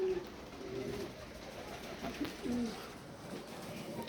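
Pigeons coo softly on a balcony where they are kept and bred, with a few low calls scattered through a faint background hum and no talk.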